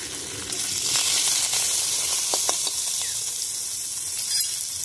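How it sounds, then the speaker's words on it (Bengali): Curry leaves and ground spice paste hitting hot oil for batata vada, a loud steady hiss and sizzle close by with a few soft stirring knocks. "এবার এর মধ্যে আমি কড়ি পাতা দিয়ে দেবো আর বাটা মশলাটা দিয়ে দেবো।"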